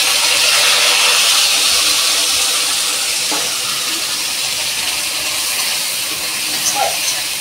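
Onion, chili and garlic paste sizzles loudly and steadily in hot oil, a dense close hiss with a few faint clinks.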